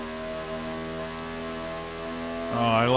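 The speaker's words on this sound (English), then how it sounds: "You can hear the engine here combined with the other" A steady, droning race car engine tone holds with stacked harmonics in the 1996 video game NASCAR Racing 2, then another engine note surges in and rises in pitch near the end.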